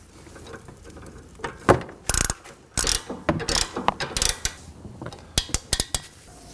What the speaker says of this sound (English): We're going to snug down our fastener and go a quarter turn once it's snug.